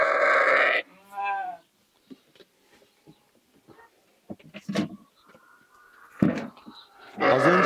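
Lambs and sheep on a Turkish village farm bleat in several loud, close calls at the start and end, with quieter shuffling and handling noises between them.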